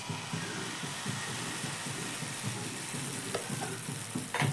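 Batter sizzling in a medium-hot frying pan on a gas stove: a steady, soft frying hiss with faint bubbling, close and unbroken, with no voices.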